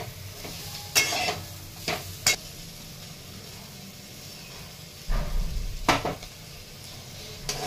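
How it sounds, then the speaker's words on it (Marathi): Roasted crushed peanut crumble tipped into green chillies frying in a pan, then stirred, giving a few sharp spoon-and-pan clatters and a soft rustling scrape over a faint steady sizzle. "तर मी शेंगदाण्याचा कूट टाकणार आहे भाजलेले।"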